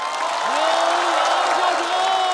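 A stand-up comedy audience applauds as comedian Liu Yang is introduced, a broad steady wash of clapping and crowd noise under a host's voice.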